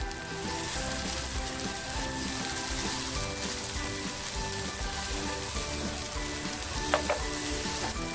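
Garlic and ginger paste sizzles steadily in hot oil for chhole, a constant close frying hiss with a few brief stirring clinks near the end and no talk.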